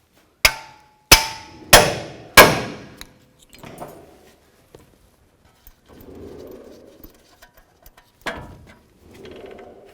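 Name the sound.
hammer striking pickle fork to separate ball joint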